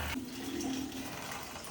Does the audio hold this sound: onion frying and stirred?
no